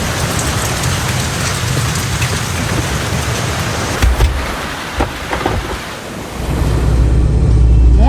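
Rain starting to fall, a dense steady patter close by that swells louder toward the end, with a few dull knocks in the middle and no talking.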